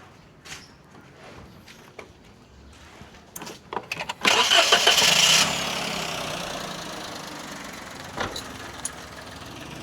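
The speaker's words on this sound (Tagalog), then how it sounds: "mapainitin natin yung makina" A Toyota Wigo engine cranks briefly and fires up after a purge valve replacement, then settles into a steady idle. Some clicks and handling noises come before the start, and the idle runs close and moderately loud afterward.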